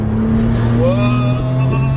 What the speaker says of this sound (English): Let's check the noise that this engine makes through the intake.